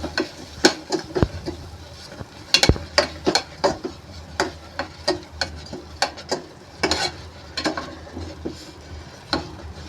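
Lapsi, a cracked-wheat sweet, is stirred in a pot with ground nutmeg and cardamom, heard as rapid, uneven scraping and knocking strokes of a spoon over a soft background sizzle.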